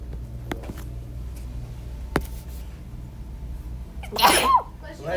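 A single sharp sneeze bursts out near the end of a quiet math lesson, loud and close against a low room hum, with faint voices just after.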